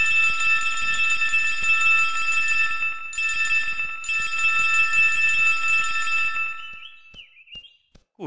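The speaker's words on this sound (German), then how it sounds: "Oh, ich höre das Geld klingeln." Sustained bright bell-like chiming of coins in the video game Cube World after selling pumpkins, a loud steady ringing tone that cuts off briefly twice and then fades out near the end, with no talking.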